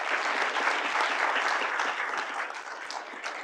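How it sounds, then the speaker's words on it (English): An audience claps in a dense, steady burst of applause for the junior judges at a spring Walleye Tank event, loud and close, easing slightly toward the end with no talk over it. "Round of applause for them"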